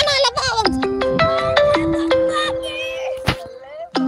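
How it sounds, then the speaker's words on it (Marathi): A mobile phone ringtone plays a bright, stepping electronic melody that repeats clearly for several seconds, with voices faintly underneath. "मामा फोन आला"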